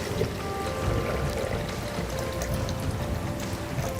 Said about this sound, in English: to this one I'm going to add about a liter of coconut water